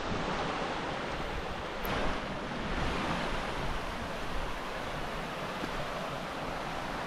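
Steady, loud rushing water from a waterfall in Georgia, a broad continuous roar that holds throughout with no talking.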